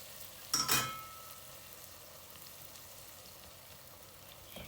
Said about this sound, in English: sauteing till the raw smell of onion, garlic, and ginger, everything goes away